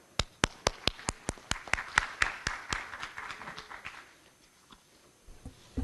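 An audience gives a round of applause at a formal event welcoming Dr. Rubén Ugarteche: crisp, evenly spaced claps in a steady rhythm that thin out and fade after about four seconds, leaving near silence.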